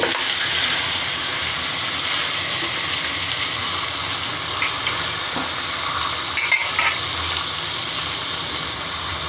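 Meat dropped into cooled, previously heated oil in a pan, giving a steady, fairly loud frying sizzle throughout, with a few faint stirring clatters partway through and no speech.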